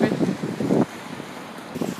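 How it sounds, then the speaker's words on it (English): Wind gusts across the mic on a flat, open beach, giving a rough, buffeting rush with a short burst of voices in the first moment. "So pretty and quiet, but windy at the same time, so you probably won't be able to hear us."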